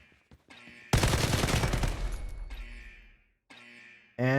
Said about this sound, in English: Someone's throwing a grenade at us.